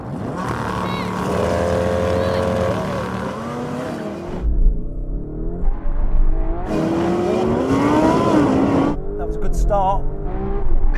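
Lamborghini Urus, Aventador SV Roadster and Huracán Performante in a drag race, loud engines roaring and revving through gear changes, with a passing rush and an excited voice talking over it.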